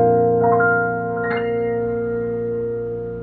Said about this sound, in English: So this is the Yamaha CFX Grand Piano.